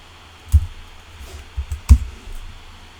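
A few sharp computer keyboard keystrokes, two louder distinct taps with lighter clicks between them, close and otherwise quiet.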